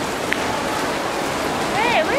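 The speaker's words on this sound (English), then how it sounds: "It's raining, guys." Rain falling steadily outdoors, a continuous soft hiss of drops with faint voices and a brief whistle-like sound in the background.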